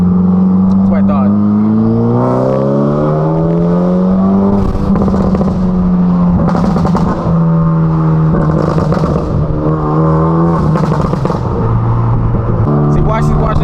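A Hyundai Elantra N revving hard in N mode, the loud engine note climbing and falling through several rising sweeps with crackles between them, while a voice talks over it throughout.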